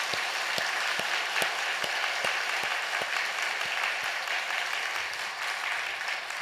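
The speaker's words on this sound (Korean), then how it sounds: "우리 큰 박수로 환영해 드리겠습니다" A church congregation applauds to welcome new members during a Sunday service, sustained clapping filling a large hall with a few sharper claps standing out near the front, fading slightly toward the end.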